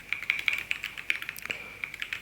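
Rapid typing on a computer keyboard, a quick irregular run of light key clicks, close and fairly quiet, with no talking over it.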